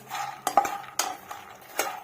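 Makhana fried in a pan, a utensil scraping and tapping the metal in a few sharp strokes over a faint, steady sizzle, with no talk.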